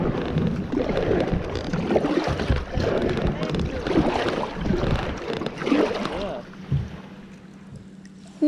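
Canoe paddle strokes dipping and pulling through the current of the Escanaba River, close and steady with water rushing and some wind noise, then the river quiets toward the end.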